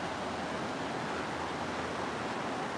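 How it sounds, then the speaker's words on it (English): Ocean surf at Porpoise Point on Vilano Beach, Florida, where the inlet opens to the sea, rolls as a steady broadband wash with wind noise at night, continuous and unbroken, without voices. "this is the way out to the ocean"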